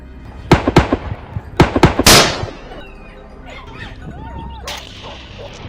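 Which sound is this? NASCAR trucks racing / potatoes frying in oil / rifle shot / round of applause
rifle shot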